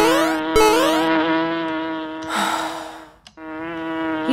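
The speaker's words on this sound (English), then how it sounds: "You stupid bee." A cartoon bee buzzes loudly and steadily near a flower, a continuous harmonic drone that wavers in pitch, briefly cuts out, then resumes close up.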